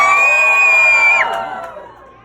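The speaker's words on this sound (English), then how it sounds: "cheer as loud as you can" Audience at a Reptile Gardens alligator show cheering loudly, with a sustained high whoop and shouting that breaks off and fades into a scattered, dwindling crowd roar.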